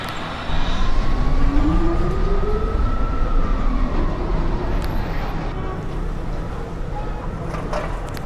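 Local 1 NYC subway train pulling into a station in the game Overhaul NYC Subway, a steady rolling rumble with a rising and falling whine, under an automated announcement voice.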